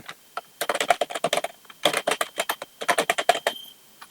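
Rapid keystrokes on a computer keyboard while entering a MonthName function in MS Access, clustered in quick bursts with short pauses between them, close and clear with no talk.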